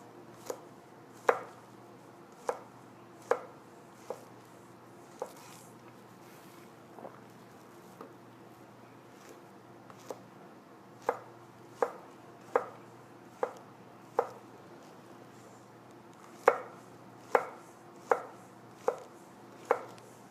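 Mushrooms diced on a cutting board for garlic soup, a knife striking the board in sharp, close chops. The chops come in irregular runs with pauses between them over a faint hiss.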